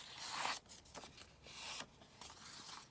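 Scissors cutting through a paper envelope, a quiet, close series of crisp snipping and rustling strokes in short bursts separated by brief pauses.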